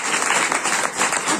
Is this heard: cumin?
no